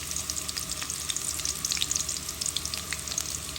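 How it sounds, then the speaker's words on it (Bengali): Chopped garlic fries in hot oil for a dried Loitta fish curry, giving a steady close sizzle with bright crackling pops and occasional stirring. "দিয়ে দিলাম তরকারির জন্য তেল, রসুন কুচিটা দিয়ে দিলাম"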